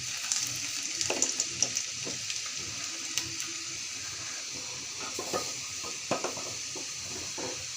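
Chopped garlic and a bay leaf sizzle steadily in hot oil in a pan, with soft scraping and clinks of a spatula stirring them throughout; no talking.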